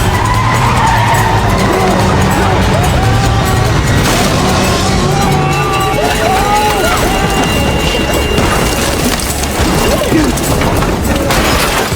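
In a film scene, a car accelerates hard, with a loud, sustained engine roar and screeching tyre skids that build over several seconds, ending in rough, crash-like jolts.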